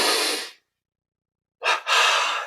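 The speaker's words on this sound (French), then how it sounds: "double inspire" Two quick inhales during a yogic breathing exercise, a short breath followed by a pause, then a double sniffing intake of air, close and clear.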